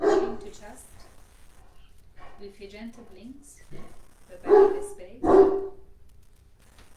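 A dog barks indoors during a home yoga session, with a couple of sharp, loud barks near the end that rise above a woman's calm spoken instructions.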